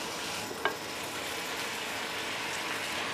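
Vegetables for pinakbet sizzle steadily in a hot pan, a continuous frying hiss with one sharp utensil clack near the start as they are stirred, no voices.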